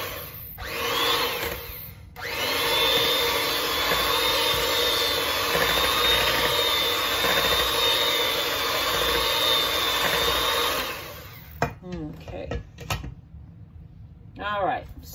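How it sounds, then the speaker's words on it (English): An old-fashioned electric hand mixer runs with a steady, loud whirring whine for about nine seconds, then cuts off, leaving a few clacks and a voice speaking nearby. "These are one of these old-fashioned kind of mixers"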